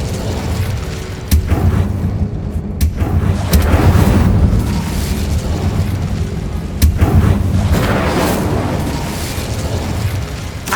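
The Incendio fire spell cast in Hogwarts Legacy, a loud, rumbling burst of flame that flares suddenly and rolls on with boomy, explosive energy, swelling again partway through.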